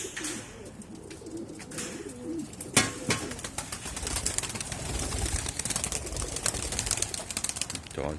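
Pigeons coo softly and repeatedly close by, with wing flaps and outdoor rustling, then louder crackling noise and bursts mixing in as the scene gets busier.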